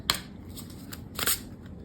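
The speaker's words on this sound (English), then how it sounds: "I just wanted to take one of these cards, shuffle on camera" Two quick bursts of oracle cards being shuffled by hand, close and alone with no talk, one brief riffle near the start and a louder, longer one toward the end.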